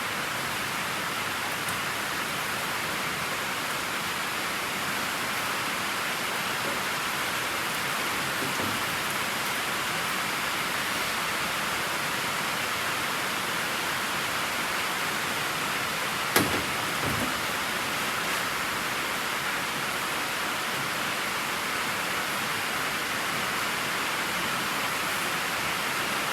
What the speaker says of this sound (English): We got a tin roof here and